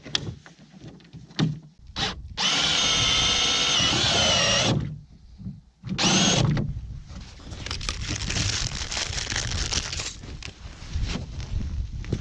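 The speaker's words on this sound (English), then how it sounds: "Just going to drill some holes in the top lip here to put some hooks in" A power drill bores holes in the top lip of a plastic sled: two loud, steady whirring bursts with brief starts and stops, followed by scraping and handling noise, close by.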